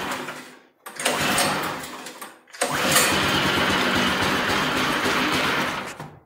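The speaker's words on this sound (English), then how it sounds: "Let's see if she'll fire for the first time since it left the factory in China." A Predator 212cc small engine fitted to an antique tractor being pull-started: a brief sputtering attempt dies, then it catches on a second pull and settles into a loud, steady mid-pitched idle, close by.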